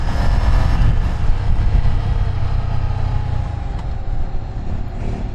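Ducati Scrambler motorcycle engine on a ride, a loud, steady low rumble close by that holds without a break for the whole stretch, with no talking.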